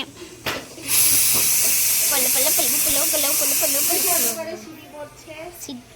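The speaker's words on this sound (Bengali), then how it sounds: "মা এখানে ভাজা তুলছে" Food frying in a pan in a home kitchen gives a loud, steady hiss of sizzling for about three seconds, with people talking over it throughout.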